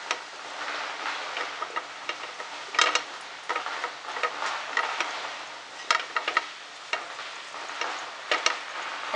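Jackfruit paste and desiccated coconut being stirred together in a pan, with soft scraping and light ticking clicks of a spoon against the pan, steady and close, with a few sharper knocks.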